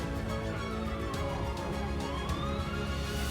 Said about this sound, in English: I think I can hear the ambulance now